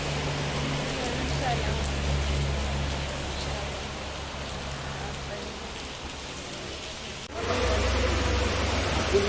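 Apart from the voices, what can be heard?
rain falling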